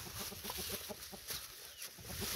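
Free-range chickens cluck softly in quick, scattered bursts while eating bread early in the morning on a farm, over a steady outdoor hiss, with faint pecking sounds mixed in.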